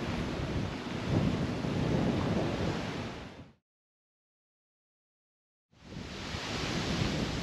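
Strong outdoor wind roars against the microphone as a loud, broad rumbling buffet that cuts out to silence for about two seconds and then returns.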